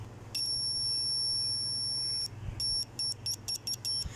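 A phone speaker emits a shrill electronic tone while its wires are touched with the probes of a Sanwa TX-360TR analog multimeter: one long steady beep, then a rapid series of short intermittent beeps.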